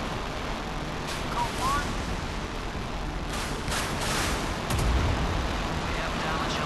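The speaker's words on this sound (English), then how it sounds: "Battle stations gun action. Deck gun stand by." A warship's deck gun fires several heavy, booming shots within a dense wash of battle noise, and a voice speaks briefly between the blasts.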